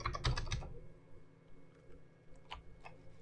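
Rapid typing on a computer keyboard during a Sinden Lightgun setup, a quick cluster of close clicking keystrokes at the start, then a few scattered isolated taps at a soft level, with no talk.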